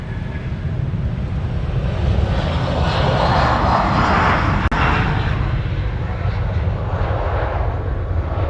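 Airliner jet engines roaring at Honolulu airport during departures, a loud, steady, broadband rumble and whine that fills the whole stretch, with faint talk underneath.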